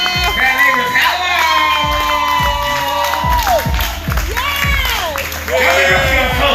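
A comedy show audience claps and cheers in a loud sustained burst, with whoops and shouts rising and falling, while a comedian keeps talking over the crowd noise throughout.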